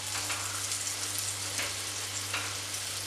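Egg fritters (mutta pori) frying in hot oil, a steady dense crackling sizzle close up with faint occasional scrapes as they are turned, no talk.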